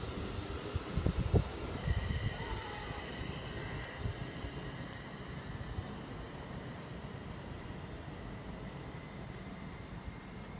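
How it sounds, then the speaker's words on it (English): A London Northwestern Railway service for Birmingham New Street pulls out at Watford Junction, a steady rumbling roll of wheels and motors sustained at moderate distance, with faint clanks early on. "now departing is the 2 minutes delayed London North Western Railway service to Birmingham New Street"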